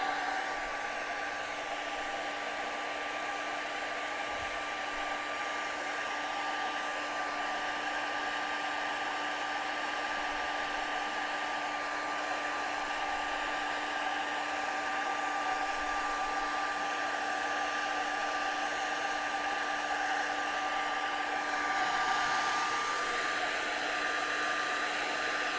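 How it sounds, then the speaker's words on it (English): A hair dryer runs steadily and loudly for the whole stretch, blow-drying wet acrylic paint on a canvas, a continuous even roar with no talk over it. "so let's blow dry this really quickly."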